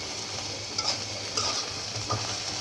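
Dried lotte fish (shutki) fries with onions in a pan, a steady close sizzle broken by a few soft stirring scrapes, with no voices.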